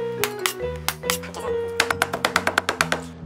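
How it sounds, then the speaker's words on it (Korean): Chinese cleaver chopping raw shrimp on a cutting board for shrimp toast, a run of sharp, close knocks that speeds into a quick, steady rhythm, with a faint hum underneath. "자, 중식칼로 간단하게 때리시면 돼요."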